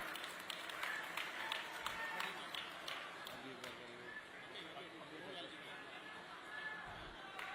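Audience applause at a state-level Sant Kabir Das Jayanti ceremony attended by the Chief Minister: a dense, steady clapping from a large crowd continues throughout, mixed with crowd chatter and voices.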